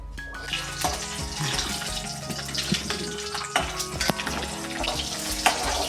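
Food sizzles steadily in hot ghee for a green egg curry, a continuous fry with scattered sharp pops and clicks of stirring, close and moderately loud with no talk.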